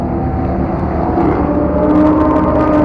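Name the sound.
Lamborghini engine at a race track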